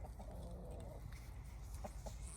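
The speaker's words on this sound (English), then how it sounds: "Checking on my chickens." Chickens with a rooster cluck softly inside a backyard coop, faint scattered clucks over a low steady background.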